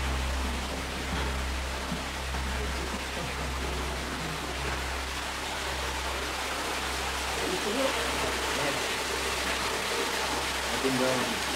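An underground waterfall in a large Nova Scotia cave gives a steady, even rush of falling water that fills the space without pause, with no voices.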